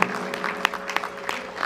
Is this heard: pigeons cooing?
no